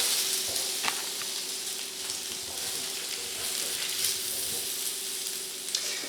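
Caramelized carrots and parsnips sizzle steadily after being tossed into a pot for an Irish stew, a continuous close frying hiss with a few small pops and stirring sounds, no talking.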